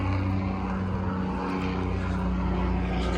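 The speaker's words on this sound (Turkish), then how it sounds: "Güzel helikopter geçiyor." A steady, loud droning rotor-and-engine roar of a helicopter overhead, holding constant throughout with a low rumbling hum and no voices.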